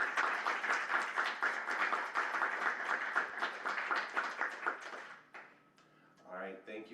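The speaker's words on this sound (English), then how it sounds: "If we can do a round of applause for the panel." Applause from a panel session audience, a steady dense patter of many hands lasting about five seconds before fading, followed by a voice speaking briefly at the end.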